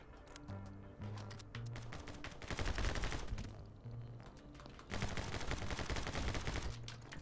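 Dense, continuous gunfire from the video game My Friend Pedro, quiet and steady, with rapid shots layered over a rhythmic musical backing throughout.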